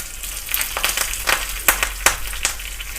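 Crackling sizzle of a garlic, curry leaf and dried chilli tempering in hot oil, with sharp pops and spits bursting irregularly over a steady hiss.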